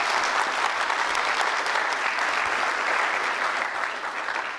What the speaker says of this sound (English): Can we just have a round of applause?